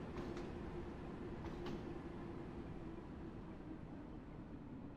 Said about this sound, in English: This is a Bakerloo line train to Harrow and Wealdstone.